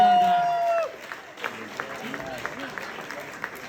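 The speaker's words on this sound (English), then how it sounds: "Give yourselves a round of applause for the Gaelic Gasp." Scattered clapping from a live crowd at an event in Moncton, fairly quiet and uneven, following a brief stretch of voice at the start.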